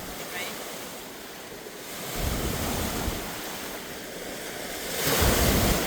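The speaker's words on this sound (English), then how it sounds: "I've never seen the waves here do this." Big wind-driven waves crashing on Bowron Lake, a constant roar of surf with gusty wind buffeting the microphone and two louder surges as swells break nearby.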